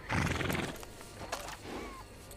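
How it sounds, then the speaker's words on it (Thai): A horse neighs loudly in a video game, with a long whinny near the start and a softer whinny later, over game background noise. "เสียงม้าพยศซ้ายมือเรา"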